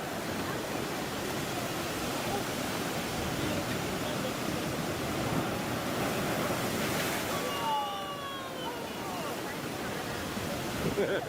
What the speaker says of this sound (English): that noise is all the waves running over my shoes